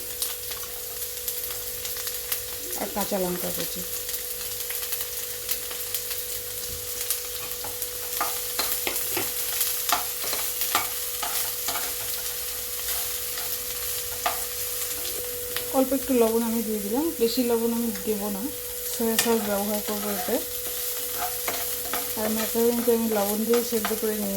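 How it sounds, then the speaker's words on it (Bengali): Chopped onions, with garlic and capsicum, fry lightly in hot oil with a steady sizzle as a spoon stirs and scrapes the pan at close range. "পেঁয়াজটা আমি খুব বেশি ভাজা করব না হালকা ভাজা করে নিলাম"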